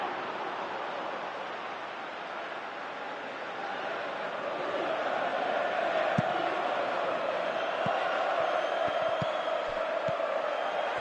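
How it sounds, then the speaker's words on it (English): A stadium crowd in a football video game roars in a steady, dense swell that grows louder partway through, with a commentator speaking over it. "Crowd calling for him to shoot"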